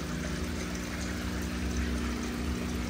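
Large aquarium filter pumping water in a tank holding leucistic redtail catfish, a steady continuous rush and trickle of circulating water at close range, with no voices.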